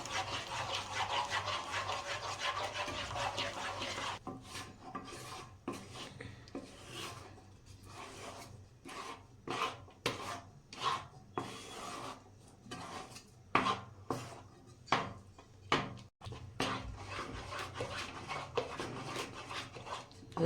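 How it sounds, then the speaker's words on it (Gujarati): Khandvi batter being stirred continuously in a pan, a steady scraping and rubbing that comes in repeated strokes, close and moderately loud, with no talking. "આ રીતના સતત આપણે મિક્સ કરતું રહેવાનું."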